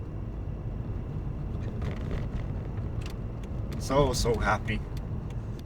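A 2005 BMW Z4 Roadster drives with a steady engine drone and road rumble from inside the open car, with someone talking briefly over it.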